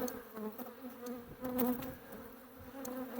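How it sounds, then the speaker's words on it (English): A large swarm of honeybees buzzes inside a hive box, a close, dense droning hum that swells and dips over a few seconds. "This right here is a huge, a huge swarm that's swimming here."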